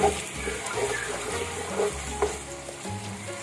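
Green peas frying and sizzling in a pot of oil with other pulao ingredients, a steady close crackle with soft stirring scrapes and low thumps of the spoon throughout.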